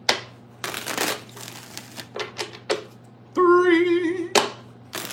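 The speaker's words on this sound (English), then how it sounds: "Let's go ahead and get 4 shuffles for the rest of it." A tarot deck being shuffled by hand in a series of short, crisp riffles and taps, close up, with one longer buzzing burst near the end.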